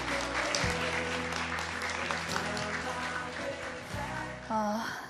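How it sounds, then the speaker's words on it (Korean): Studio audience applause during a live Korean charity telethon broadcast, steady crowd clapping throughout with musical tones underneath and a brief swell near the end. "좋은 말씀 해주신 기현 씨께 박수 부탁드릴게요"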